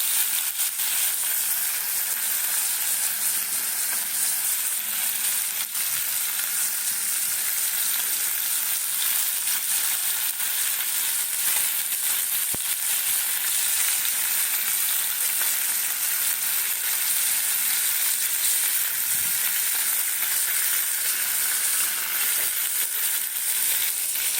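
Amodi fish fries in a pan, a continuous bright sizzling hiss holding steady and close throughout, with no talk.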